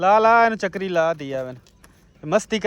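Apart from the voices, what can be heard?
No everyday noises stand out.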